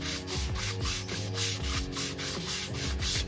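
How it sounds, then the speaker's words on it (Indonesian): An RX-King carburetor membrane is rubbed back and forth on 400-grit sandpaper laid on a flat surface, giving a close, steady, rhythmic scratchy rasp of about three strokes per second, with no talk. "Oh ya, ini saya pakai amplas"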